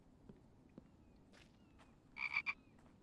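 Frogs croak in the survival video game The Infected, a few faint, distant croaks followed by a louder cluster of rapid croaks near the end over quiet ambient noise.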